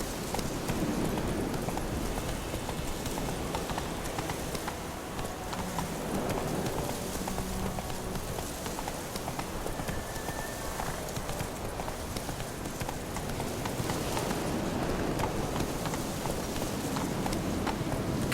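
Roach the horse galloping in The Witcher 3, a rapid, steady clip-clop of hooves that carries on without a break over a rustling wash of rain-like ambience.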